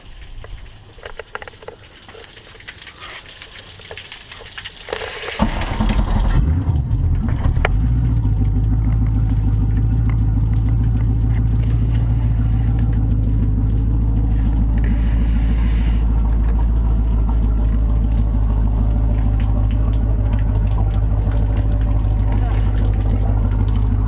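A 2008 Malibu Wakesetter boat engine, run on a fake-lake water setup for an impeller test, cranks over and catches after a few seconds of background noise. It then runs loud and steady with a deep, constant rumble to the end.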